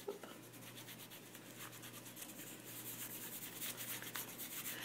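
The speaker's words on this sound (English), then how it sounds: "And then I use my fingers and I rub it in." Fingertips rub gelato crayon colour into a handmade butterfly card, a soft, faint, continuous scratchy friction with repeated short strokes and no voices.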